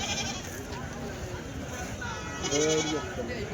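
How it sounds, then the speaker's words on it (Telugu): Goats bleat a few times close by at a livestock market, one louder, wavering call standing out near the end, with voices murmuring in the background. "మేకలు ఇవి"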